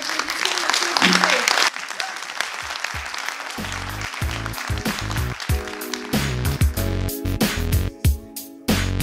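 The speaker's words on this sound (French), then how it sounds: "nous applaudissons la communauté" Audience applause at an ideas festival fills the opening seconds as a dense wash of clapping, then thins into scattered claps and taps as music with a deep bass beat comes in beneath it.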